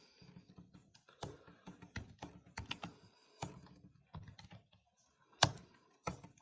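Typing on a computer keyboard while entering text into an Excel cell: quick, uneven clusters of close key clicks with short pauses between them, with no voice heard.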